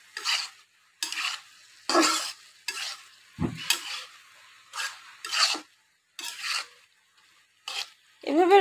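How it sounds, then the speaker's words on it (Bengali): Drumstick vegetables and egg being stirred while frying in a pan, a series of about ten short scraping strokes over a faint sizzle, close and evenly spaced. "এভাবে ডিমটা দিয়ে সাথে সাথে ডাটাটা নেড়ে দেবেন, তাহলে করে সবার সাথে ডিমটা ভালোভাবে মিশে যাবে।"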